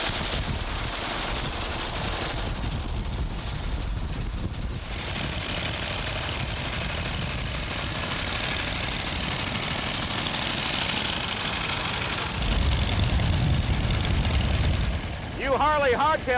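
A 1918 Pope motorcycle engine runs with a steady, continuous mechanical drone that swells slightly louder near the end, with low rumble and a faint knocking texture throughout.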